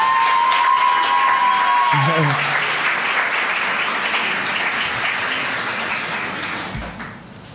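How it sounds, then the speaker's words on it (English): An audience applauding and cheering at a design talk, a loud sustained wash of clapping with a few whoops, under a speaking voice at the start and tapering off near the end. "Big round of applause from everyone in the audience."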